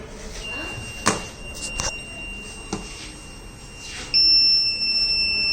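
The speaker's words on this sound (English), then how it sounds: "this is a buzzer indication for the metal detection" A metal-detecting robot's buzzer sounds a steady high electronic tone, then a second higher tone joins near the end, with scattered clicks and handling knocks around it.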